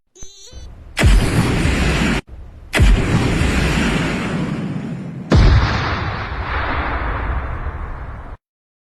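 Three heavy cannon blasts in sequence, each a sudden booming burst that rumbles and decays over a couple of seconds, loud and close.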